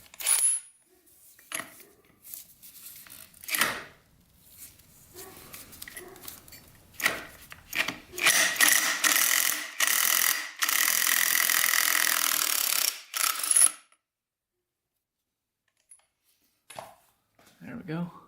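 A ratchet and socket work a part off a vintage Honda CR250 barn-find dirt bike, giving scattered metallic clicks and clinks, then a sustained rapid ratcheting burst, followed by a few faint taps near the end.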